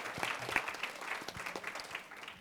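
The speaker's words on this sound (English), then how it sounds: "Can we give her a round of applause for that?" An audience at a conference panel claps in a short, dense burst of applause, moderately loud and fairly close, with no voices over it.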